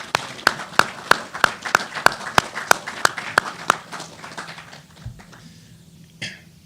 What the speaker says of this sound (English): Please join me in giving each one of them another round of applause